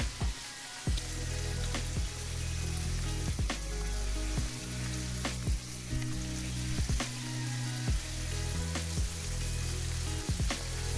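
Steady, dense sizzling of liver frying in a hot pan, punctuated by periodic sharp clicks and taps, close and continuous with no talking.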